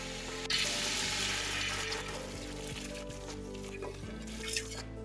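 Water is poured into sizzling, browned chicken in a pressure cooker for yakhni soup, bringing a sharp burst of hissing that settles into a steady, quieter sizzle with light bubbling and a clink or two.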